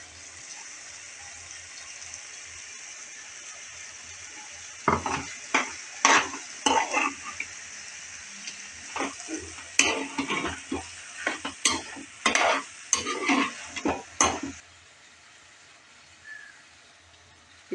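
Green chillies and poha sautéed in a pan: repeated stirring scrapes and clinks of a utensil over a soft, steady sizzle, with bursts of activity coming in quick irregular runs.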